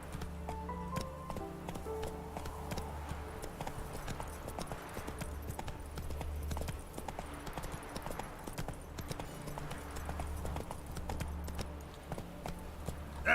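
Horse hooves clip-clopping steadily in The Witcher 3: Wild Hunt, a continuous rhythmic walking gait heard close over a low background hum.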